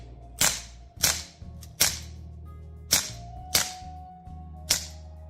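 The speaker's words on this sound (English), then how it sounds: "That is a replica freaking mag dumped Glock on this 9mm." A replica 9mm Glock fires six sharp, cracking shots at uneven intervals, each loud and close, with a faint steady hum between them.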